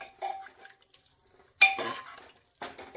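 Bottle gourd curry is mixed in a pressure cooker pot with a spoon. Three bursts of close metallic scraping and clinking are separated by short quiet gaps.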